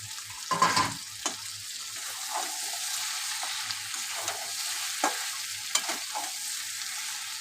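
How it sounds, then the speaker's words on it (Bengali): Mutton being stirred in a pan with fried garlic and potato, giving a steady close sizzle with intermittent scraping and clacking of the spoon, no voices. "ভালো করে নাড়িয়ে"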